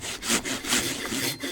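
A handsaw cuts through standing dead hardwood at a winter storm campsite, with steady back-and-forth rasping strokes, close and loud, repeating about every third of a second with no talking.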